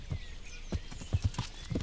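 Horse hooves clip-clop in the medieval video game Kingdom Come: Deliverance, a quiet, uneven series of soft thuds at a walking pace with a faint background ambience.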